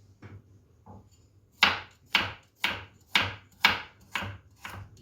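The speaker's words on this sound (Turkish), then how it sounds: "Havuçlar da hemen hemen 3 milim kalınlığında bu şekilde havuçları da doğruyoruz." A knife chops carrots into 3 mm slices on a board: two soft cuts, then six crisp, evenly spaced strikes close by, with no talking.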